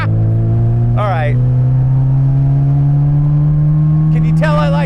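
A supercharged, remastered Mini Cooper built by JET Motors drones loudly and steadily as it drives, its engine note rising slightly, with a voice briefly breaking in near the start and again at the end.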